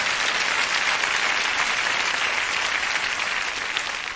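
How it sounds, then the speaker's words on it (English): An audience at a business talk gives a round of applause, a steady, dense wash of many hands clapping that holds loud and even throughout and tails off slightly at the close, with no voices over it. "Give me a round of applause right quick."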